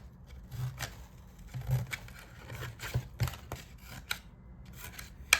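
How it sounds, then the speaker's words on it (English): Scissors snip around the top of a paper part for a marble run, giving a quiet series of irregular crisp cuts and rustles close by. "So I would just snip all around the top of this."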